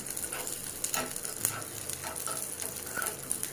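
Raisins and cashews sizzle in ghee for venpongal, a steady, close, crackling fry with light stirring scrapes, no voices.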